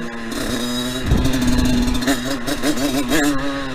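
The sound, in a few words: dirt bike engine revving, CRF replica motorcycle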